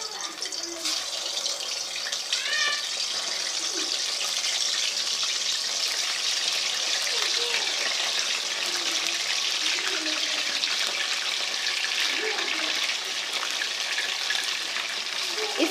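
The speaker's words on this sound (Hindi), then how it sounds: "और हम इसको फ्राई करते हैं कोफ्तों को।" Beef koftas fry in hot ghee with a continuous, loud, even sizzle and crackle that holds steady throughout.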